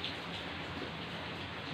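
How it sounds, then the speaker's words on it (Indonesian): Steady rain falls outside on a cold day, a soft continuous hiss without breaks, with no voices. "Di luar hujan."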